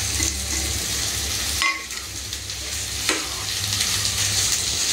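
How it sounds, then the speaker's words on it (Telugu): Sliced onions deep frying in oil in a kadai for chicken biryani give a steady, close sizzle, with stirring scrapes and a brief clatter partway through; no one speaks. "తర్వాత మనం ఇదే బాండీలో ఆనియన్స్ డీప్ ఫ్రై చేసుకుందామండి"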